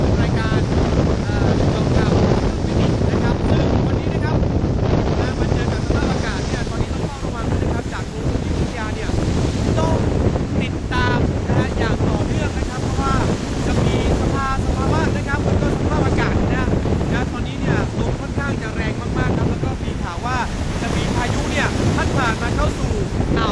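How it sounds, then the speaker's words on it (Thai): Strong sea waves and wind on a rough day off the coast of Songkhla, a loud, constant roar of surf with heavy wind buffeting the microphone throughout. "วันนี้ก็เป็นอีกหนึ่งวันนะที่คลื่นเนี่ยค่อนข้างแรงมากๆ ครับ"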